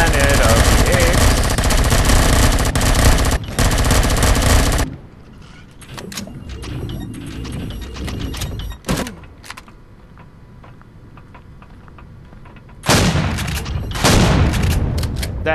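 Loud bursts of automatic gunfire in the Empyrion video game come in heavy sustained volleys, fade to quieter scattered shots and rumble, then return in a loud burst, with a voice speaking between them.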